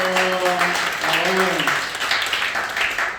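Congregation clapping during a Sunday worship service, a thick burst of many hands under a speaking voice at the start, then continuing as a lively, close patter of applause.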